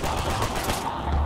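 Gunfire in Uncharted 4 multiplayer on PS4 rattles out in a fast, dense burst of shots that stays loud and close for the whole short stretch.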